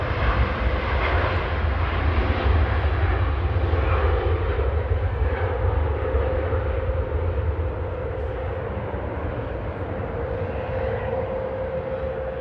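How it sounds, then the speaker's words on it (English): Steady loud jet roar from a Lufthansa airliner at Manchester Airport, a deep rumbling engine noise with a faint droning tone that shifts slightly midway, continuous for over twelve seconds with no talking. "Lufthansa's making some pretty nice weird noises."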